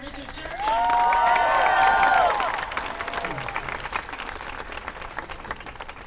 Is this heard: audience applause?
yes